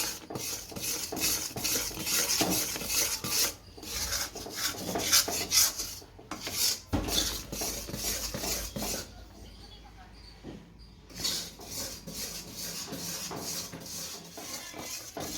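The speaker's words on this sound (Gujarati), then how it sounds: "આ જ રીતના ગોળને લાવતા રહીશું એટલે નીચે ન બેહે તળિયે અને હલાવતા રહેવું સતત" A spoon scrapes and rubs continuously around a pan of melting jaggery being heated for chana dal chikki, making a steady rasping, gritty sound at close range.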